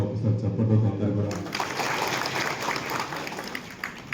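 Applause from a crowd of women and local officials at a Kalyana Lakshmi scheme meeting, breaking out after a voice speaks and continuing as a steady, dense wash of clapping to the end.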